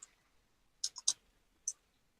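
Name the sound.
keyboard typing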